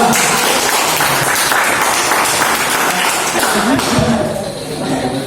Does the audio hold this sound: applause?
yes